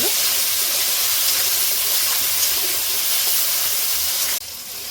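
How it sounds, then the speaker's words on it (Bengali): Onion frying in hot oil in a pan, a steady loud sizzling hiss that continues without pause and drops suddenly near the end. "পেঁয়াজটা একটু ভেজে নেবো।"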